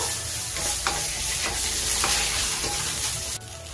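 Chicken seasoned with black pepper and salt sizzles steadily in a pan while a spatula stirs it in a few soft scrapes, close and continuous, with the sizzle dropping slightly near the end.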